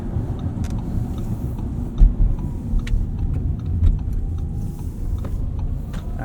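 2024 Audi Q8 Sportback e-tron quattro electric SUV driving, a steady low road and motor rumble from inside the cabin with occasional creaks and soft bumps, no talking.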